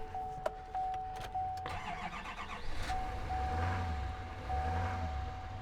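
Chevrolet Duramax diesel engine in a GMC Sierra Denali pickup idling steadily at close range, a low rumble under intermittent reversing-style beeps and a few clicks, no talk.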